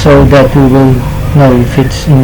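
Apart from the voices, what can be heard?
No everyday noise stands out behind the speech.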